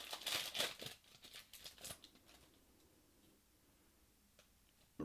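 A Yu-Gi-Oh! Rising Rampage booster pack tears open in a quick burst of crinkling foil and rustling paper up close. The crackling fades to near silence after about two seconds.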